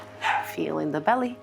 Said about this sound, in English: I am so sorry about my dog that is screaming in the background because it probably saw a squirrel in the window